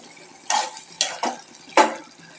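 A utensil stirring shol fish curry with potatoes in a pan, making four separate scraping strokes spaced irregularly over a quiet background, each one short, close and crisp.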